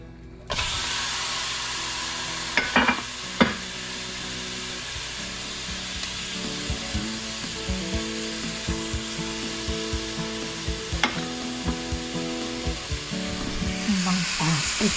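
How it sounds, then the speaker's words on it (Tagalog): Steady sizzling of food frying in a pan, with occasional clinks and scrapes of a utensil stirring throughout. "Prito lang, ipiprito ko ng konti."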